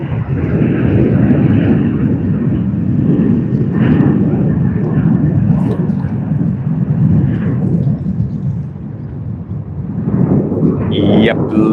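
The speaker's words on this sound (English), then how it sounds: "we have another takeoff roll, Virgin Australia, Boeing 737" A Virgin Australia Boeing 737 on its takeoff roll at Sydney Airport gives a loud, steady, broadband engine roar that holds close and constant throughout.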